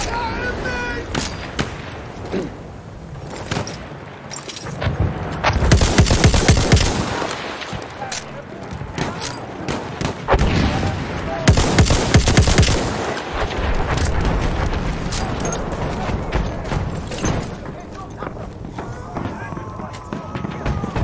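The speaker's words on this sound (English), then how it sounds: "Enemy machine gun!" Bursts of machine-gun fire crackle through a chaotic Xbox One X shooter battle, loud volleys of rapid shots rising and falling over about twenty seconds, with shouted voices mixed in.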